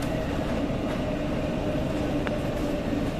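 A Sendai Subway Namboku Line train rumbles steadily along the rails approaching Izumi-Chuo station, a continuous low roar with faint clacking, heard from inside the car.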